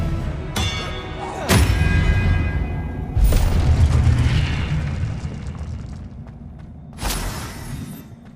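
Blasting-spell explosions in Hogwarts Legacy: several loud sharp booms, each followed by a rumbling decay, spaced a second or more apart over a steady background of game ambience.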